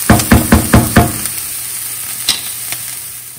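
Food frying in a pan for vegan porcini mushroom pasta, a steady sizzle with a quick run of sharp stirring knocks at the start and a couple more taps later.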